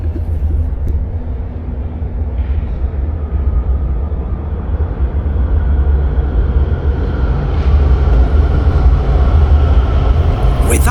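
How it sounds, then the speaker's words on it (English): An underground train rumbles into a station, a deep steady roar that grows louder and fuller toward the end. "And here's the train coming in already."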